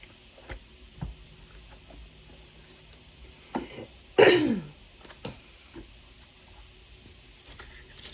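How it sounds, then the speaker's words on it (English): Quiet room with scattered small clicks, then one sharp throat-clearing cough near the middle, followed by a few softer taps. "I'm trying not to cough inside this reading."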